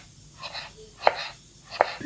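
Knife chopping through a peeled, washed pumpkin on a board, with two sharp, distinct cuts and lighter scraping strokes around them, close by and fairly quiet.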